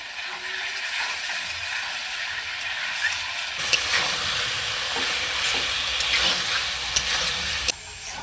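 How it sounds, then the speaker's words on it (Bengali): Elephant foot yam and potato curry sautéing in a pan gives a continuous low sizzle, with a few sharp metallic stirring clicks. "এখন তরকারিটাকে ভালোভাবে আমি কষিয়ে নেব"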